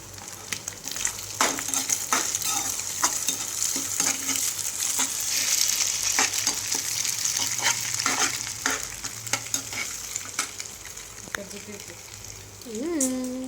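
Egg fried rice stirred in a hot pan, with a steady close sizzle of frying and repeated scraping strokes of the spatula, while a voice talks over the cooking.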